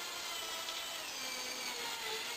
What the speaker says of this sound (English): so I slow the drill down a bit